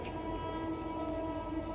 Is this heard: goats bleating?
no